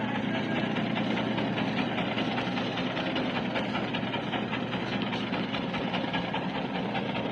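A trawler boat's heavy diesel engine idles beside a ship at sea off Patenga, a loud, steady low drone with a faint knocking rhythm that fills the whole stretch.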